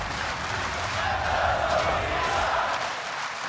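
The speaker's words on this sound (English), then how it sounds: "And the crowd is cheering him on." Arena crowd at a League of Legends esports group-stage match between FW and C9 roars and cheers steadily, a dense sustained wash of noise with a swell in the middle, no clear speech on top.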